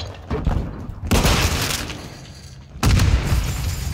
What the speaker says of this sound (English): Throw in flash grenade